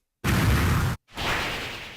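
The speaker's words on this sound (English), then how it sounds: "All right, bomb exploding." Two loud synthetic explosion sound effects for a bomb in a game, each a sudden burst of dense rumbling noise, the first sharp and full, the second swelling then slowly fading, separated by a short gap.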